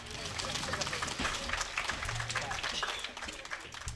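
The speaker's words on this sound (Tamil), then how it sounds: "துர்கா உனக்கு இப்படி ஒரு கைதட்டு கொடுக்கலாம்." Audience applause at a village stage comedy show near Thirumangalam, dense steady clapping filling the whole stretch with crowd noise and some voices mixed in.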